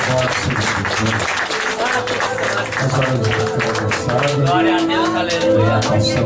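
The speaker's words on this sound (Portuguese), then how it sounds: "Uma sala de palmas para Jesus." Worshippers at a church service in Piçarras, SC keep up a continuous round of clapping. The applause mixes with music and voices throughout and swells slightly toward the end.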